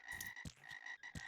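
Synthetic game frogs in the video game Reggorf croak repeatedly in short bursts over a steady high electronic tone, with several deep, thudding croaks spaced irregularly and no talking.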